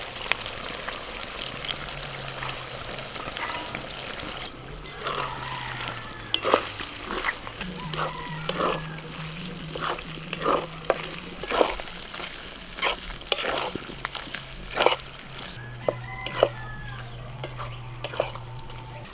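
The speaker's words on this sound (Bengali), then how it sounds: "এবার ভেজে রাখা আলুগুলো দিয়ে দিচ্ছি।" Fried potatoes go into a pan of browned chicken spare parts, followed by quiet scraping and stirring clinks from a spatula against the pot, soft and intermittent over a low sizzle.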